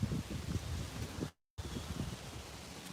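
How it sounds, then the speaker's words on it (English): Steady wind buffets the microphone outdoors with low rumbling gusts, broken by a brief moment of complete silence partway through. "It's windy out here."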